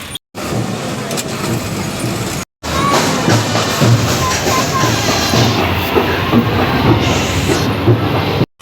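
A train rumbles past on the rails near a station, loud and continuous with a rolling clatter of wheels that stays steady throughout, with a couple of brief breaks in the recording.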